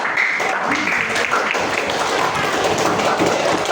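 Classroom applause from students, a dense wash of clapping that holds steady for several seconds at moderate loudness, with voices mixed in underneath.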